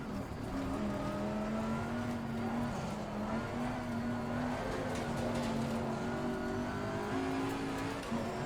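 A race car in Assetto Corsa Competizione is driven with traction control off. A steady mid-level engine drone holds a sustained pitch with slight rises and falls, and no voice is heard.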